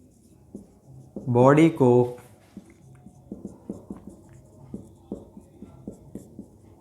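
Chalk or marker strokes from writing during a lecture: a short burst of speech, then a steady series of quiet, evenly spaced ticks and scratches as the writing continues.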